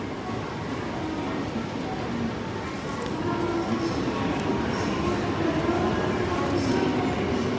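A Shinkansen train, the Yamabiko 2, at Tokyo station, giving a steady low rumble and hiss that builds gradually, with faint station noise above.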